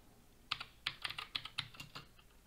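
Typing on a computer keyboard: a quick run of about a dozen crisp, close key clicks in an irregular rhythm over a quiet background.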